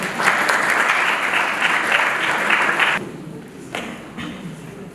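A congregation at a funeral service claps and applauds to acclaim the Lord, a dense, loud round of hand clapping that stops abruptly midway, leaving a quieter room with a few scattered claps and faint voices.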